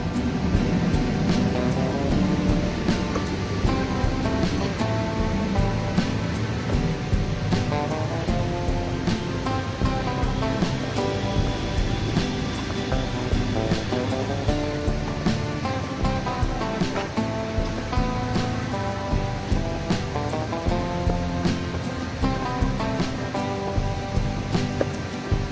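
Steady rushing roar of the Cigulung waterfall at Maribaya in Lembang, a continuous broadband wash of falling water heard alone without voices.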